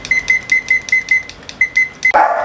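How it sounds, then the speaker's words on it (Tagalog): Kitchen timer beeping in rapid repeated bursts while banana bread bakes, a clear close electronic ring with no talk, ending in a brief rustle. "Timer."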